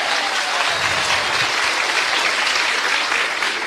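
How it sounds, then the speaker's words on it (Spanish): A church congregation breaks into loud, sustained applause during a sermon, a thick, steady wash of clapping that fills the space from start to finish with no talking over it. "Fuerte aplauso, hermanos."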